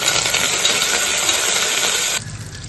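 Mustard seeds, fenugreek, dried red chillies and curry leaves sizzle hard in hot tempering oil, a dense, loud crackling hiss that holds steady before dropping abruptly to a softer simmer near the end.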